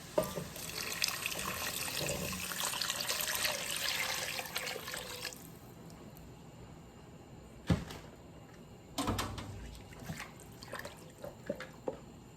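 Four cups of hot water pour steadily into a pot with a splashing rush for several seconds, then stop, followed by scattered clinks and knocks of kitchenware.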